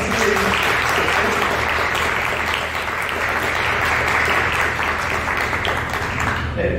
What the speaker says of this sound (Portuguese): Aí acho que merece uma outra, né, salva de palmas.